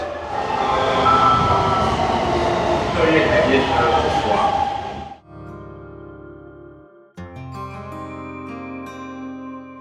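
A metro train in Taiwan runs with a loud rumbling roar that cuts off abruptly midway, followed by a melodic onboard chime and tones inside the carriage.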